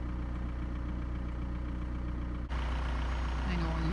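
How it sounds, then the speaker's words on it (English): A car engine runs steadily close by, a continuous low rumbling idle with a brief dip partway through, then a faint tone rising over it. "I know all you can hear is my car"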